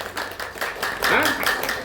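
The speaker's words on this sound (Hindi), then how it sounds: "ताली बजाओगे अपने लिए, नहीं बजाओगे हमारे लिए मत बजाना" An audience claps steadily in rhythmic applause while someone speaks over it.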